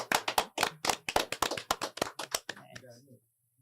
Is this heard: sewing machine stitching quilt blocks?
no